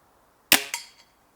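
A new toy or air gun fires two quick sharp cracks in close succession, followed by a faint tap. The report is loud and near in an otherwise quiet setting.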